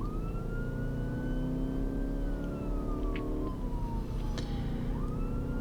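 An emergency vehicle siren on a 999 run toward the motorway wails loudly and steadily, its tone sweeping and then switching pattern, over a constant engine and road roar.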